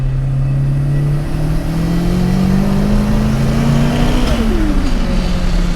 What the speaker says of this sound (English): I'll do a third gear hit before you go high boost.